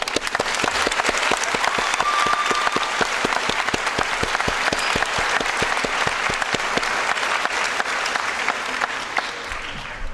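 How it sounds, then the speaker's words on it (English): A dense, sustained round of applause from an audience at a 2014 nursing pinning ceremony, loud and even throughout, with no voices over it. "Please join us in a round of applause."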